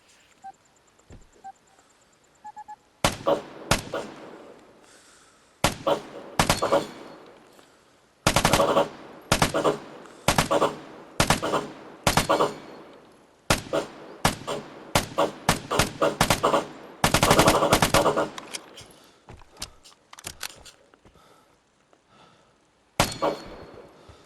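SMG fire rings out during a shootout challenge in the video game Vigor, with repeated sharp automatic bursts of varying length separated by brief pauses and some longer sustained strings, loud and up close.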